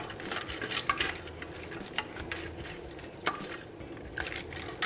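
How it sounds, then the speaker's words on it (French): Chicken carcasses are stirred in a hot, nearly dry pan, with clattering scrapes and knocks of a utensil against metal over a faint sizzle, close and fairly quiet, with no speech. "On mélange nos carcasses."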